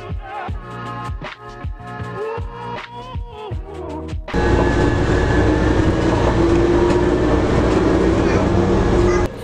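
A Taipei MRT Brown Line train, talk and station sounds at first, then a loud, steady rush of the car in motion with a continuous rumble and a faint whine.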